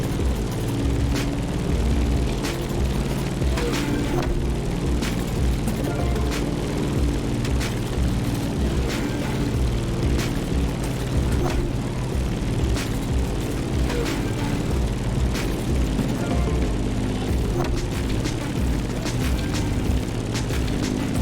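A propeller airplane climbing in The Crew Motorfest near Kaneohe, Hawaii, a steady, loud droning engine hum that runs the whole stretch with a faint rhythmic flutter and no voices.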